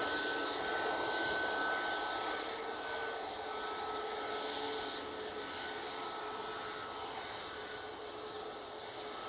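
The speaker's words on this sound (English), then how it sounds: "And the Ryanair coming on down Bravo as we speak." Ryanair jet taxiing along taxiway Bravo at Manchester Airport, a steady broadband engine rumble and whine with faint tonal lines, holding fairly even and slowly easing off over the stretch, with no voices.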